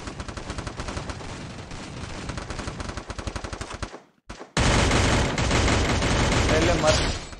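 Rapid automatic gunfire and headshots from Garena Free Fire gameplay, a dense rattling stream of shots, a brief drop to near silence, then louder sustained firing with a faint voice underneath.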